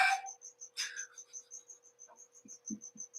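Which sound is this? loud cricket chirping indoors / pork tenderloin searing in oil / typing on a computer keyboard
loud cricket chirping indoors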